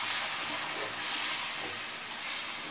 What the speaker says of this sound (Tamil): ஊற்றிட்டு இந்த மாதிரி கிண்டி விடுங்க.